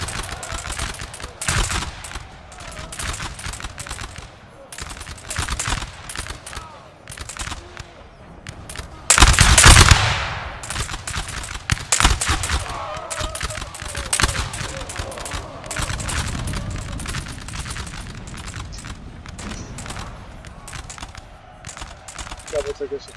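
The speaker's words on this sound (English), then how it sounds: "You see, third rank is shooting too." Musket volleys from massed infantry ranks in the Napoleon: Total War online battle crackle in dense, overlapping bursts with a louder cannon-like blast partway through, over ongoing battle noise and occasional talk.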